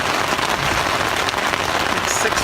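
Steady rain drums on a tent's rain cover on a first night camping along the Potter Pass Trail to George Lake, a dense continuous patter close overhead with no pauses.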